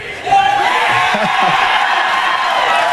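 A loud studio audience at MuchMusic in Toronto, 2001, breaks into sustained cheering and whooping, a dense wall of crowd noise that stays steady after a sudden start.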